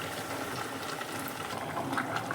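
Hot water pours into a pan of chicken curry, making a steady, close rushing splash that runs unbroken for a couple of seconds with no voices.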